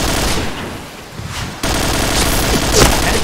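Automatic weapon fire in a shooter video game, a loud sustained rattle that dips briefly, then cuts back in sharply and keeps hammering to the end.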